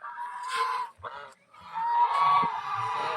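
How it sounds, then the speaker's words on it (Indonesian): Geese at a farm with a windmill and savanna campsite honk in several loud, nasal bursts, close by, with a short pause in the middle and no talk over them. "Di sebelah kanan tuh ada angsa nih."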